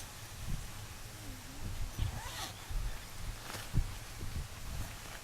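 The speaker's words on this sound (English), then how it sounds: "You can close the zipper from the outside or inside." A zipper runs along a sleeping bag in a few short, soft pulls with rustling fabric between them, quiet and close.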